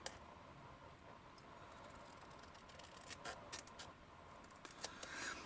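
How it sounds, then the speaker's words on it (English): Scissors snip through scored card in a series of short, crisp cuts, quiet and close, with small clicks of the blades and no talking. "So we'll just snip along the score line."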